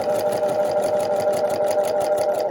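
A sewing machine runs steadily while stitching curved quilt pieces for a New York Beauty block, a loud, continuous mechanical whir with a fast rhythmic clatter of the needle throughout.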